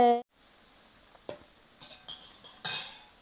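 Pork belly sizzles on a hot, scorched mookata grill pan, heard as a soft crackling hiss with scattered utensil clinks, ending in a louder burst of frying, close by and without talk.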